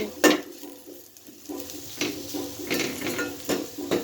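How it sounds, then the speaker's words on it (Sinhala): Potato sambol is mixed with sugar, chili pieces, salt and tamarind, giving repeated close scraping and clinking of a spoon against a bowl in an uneven rhythm, with no voices. "සීනි දැම්මා, කෑලි මිරිස් දැම්මා, ලුණු, සියඹලා සියල්ලම එකට එකතු කරලා මේක කලවම් කරගන්න"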